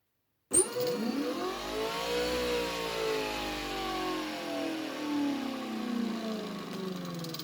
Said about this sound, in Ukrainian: Включаю генератор.